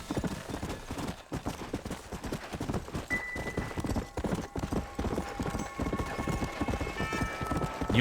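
Horse hooves galloping in Red Dead Redemption, a fast, steady clip-clop rhythm that runs continuously and close, with occasional faint game sounds behind it.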